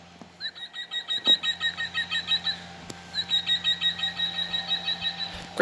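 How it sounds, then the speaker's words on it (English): An Audubon plush bird toy plays a recorded European green woodpecker call: two runs of rapid, evenly spaced, ringing laughing notes, bright and fairly loud, separated by a short pause. "European green woodpecker."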